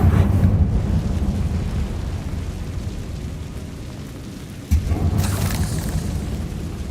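A Confringo fire spell blast in the Hogwarts Legacy video game: a deep rumbling explosion that fades slowly, then a second sharp boom with crackling debris, loud and close, no talk.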